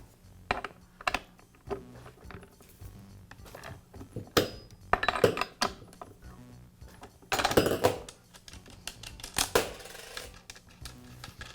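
A Poulan chainsaw's bar and chain are taken off by hand, giving scattered metallic clicks, ratcheting taps and clattering handling noises up close, with louder bursts around the middle and near the end.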